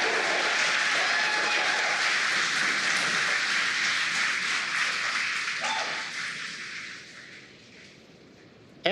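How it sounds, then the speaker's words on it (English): A crowd cheers and applauds in a room during a Falcon 9 rocket launch for the GPS III SV05 mission, a steady broad roar that holds strong for several seconds, then slowly dies down into quiet. "as you can hear the cheering in the background"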